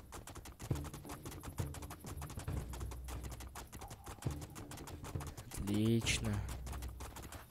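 Horse hooves clip-clop in steady rhythm in the video game Two Worlds II, a run of crisp close hoofbeats with a brief whinny-like burst near the end, while someone speaks briefly over it.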